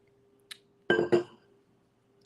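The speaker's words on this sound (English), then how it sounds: "So I'm going to get some water real quick here in the old water jug" Water is poured from an old water jug into a glass, heard as a couple of close, clinking glassy knocks and splashes bracketed by faint taps in an otherwise quiet room.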